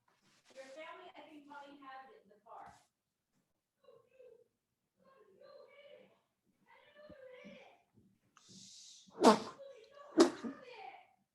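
Two sharp, loud sneezes close together near the end, following stretches of a person talking in a light, high voice.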